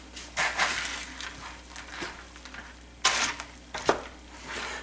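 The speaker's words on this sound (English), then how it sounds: "Give it a quick stir." A pot of liquid just brought to a boil gets a quick stir after ingredients are dumped in, with soft scraping and clinking of a utensil against the pot in short bursts over a low bubbling background.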